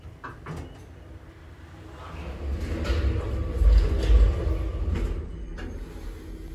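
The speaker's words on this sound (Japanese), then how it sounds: "反対のドアが開きます。" An inclined elevator at JR Kyushu's Saga Station opens its door: clunks and a sliding rumble build into a low mechanical roar, then ease off, heard nearby with no talk.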